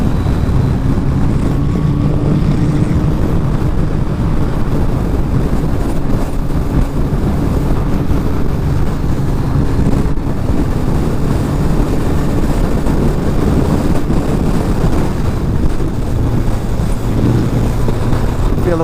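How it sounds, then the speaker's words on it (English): Strong crosswind roars across a Kawasaki ZZR1400 motorcycle riding over the open North Yorkshire moors: a loud, steady, broadband rush of wind buffeting, with engine drone underneath and no talking. "Feel the wind's quite strong on these open parts from right to left as I'm riding."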